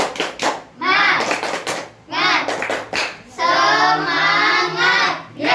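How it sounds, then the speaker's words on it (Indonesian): Schoolchildren in an Indonesian primary school class clap together in a rhythmic chant, short bursts of hand claps alternating with loud unison voices, the group sounding close and lively. "Agar lebih semangat, mari kita beri tepuk semangat dulu."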